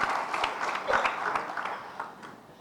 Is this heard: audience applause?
yes